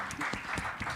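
Audience applause at a smartphone summit for Africa, a brief burst of scattered clapping from a moderate crowd.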